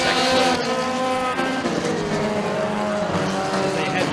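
Challenger-class race cars roar around the Stateline Speedway oval, their engines loud and close in overlapping howling, shifting tones as they pass through the turns, under an announcer's commentary.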